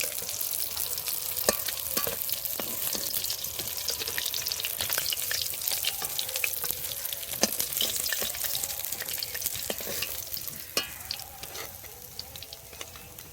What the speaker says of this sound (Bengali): বন্ধুরা মাছগুলো কড়া করে ভেজে নিয়েছি এখন তুলে নেব